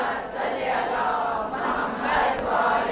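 A large crowd at a religious gathering chants the slogan "Ya Ali" in unison, a loud, sustained roar of many voices rising and swelling across the whole stretch.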